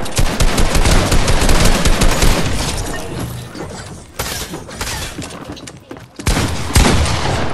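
Rapid automatic gunfire from the video game Fortnite rattles in loud, dense bursts, with short pauses before two more volleys near the end.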